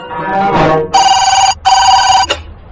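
A telephone rings loudly in two long electronic bursts separated by a short gap, with a brief third blip at the end.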